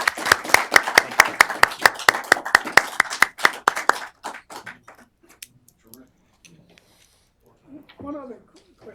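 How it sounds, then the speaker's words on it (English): An audience claps after a talk, brisk close rhythmic clapping that fades out after a few seconds, followed by faint murmuring voices. "let's give one final round of applause to JV."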